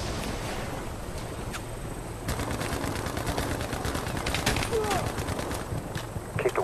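Helicopter gunship gunfire in Battlefield Mobile: rapid bursts of shots over a steady rotor and wind roar, growing denser in the second half, with speech beneath.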